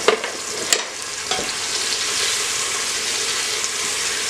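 Onions and garlic frying in a pan with a little salt, a bright, steady sizzle with a few sharp stirring clicks early on, close and continuous.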